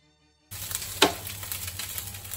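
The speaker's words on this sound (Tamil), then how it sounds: "இப்போ சாதம் நீங்கள் செய்கிறப்பவே வறுபடுற சத்தம் கேட்கும்." Cooked rice frying in oil in a pan for egg fried rice; after a brief silence a loud sizzle starts abruptly and keeps crackling steadily, with one sharp stir or scrape early on, close up.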